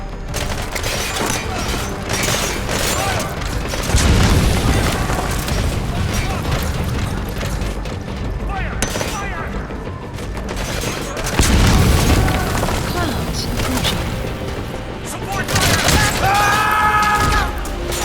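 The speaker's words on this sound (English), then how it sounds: "Giving cover fire!" Metal Gear Solid 5 combat brings steady loud gunfire with heavy booming explosions that swell at intervals, a dense continuous battle din with mechanical clatter throughout.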